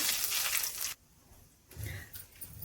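Chana dal and urad dal frying in oil with mustard seeds and cumin, a loud hissing sizzle that drops out abruptly, then returns more softly with low bubbling.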